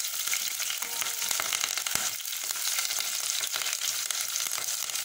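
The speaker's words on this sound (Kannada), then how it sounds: "ಸ್ವಲ್ಪ ಫ್ರೈ ಆಗಬೇಕು" Green chillies and curry leaves frying in a pan, a dense, loud, unbroken sizzle and crackle right up close, with faint stirring clicks scattered through and no voices.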